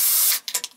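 A can of Holsten beer is cracked open. A sharp hiss lasts about a third of a second, followed by a few quick, fizzy bursts that trail off, close to the microphone.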